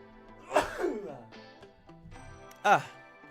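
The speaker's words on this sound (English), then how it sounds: "Big old sneeze." A person sneezes twice, a sharp burst followed by a breathy trail, then another sudden sneeze, close up with quiet music in the background.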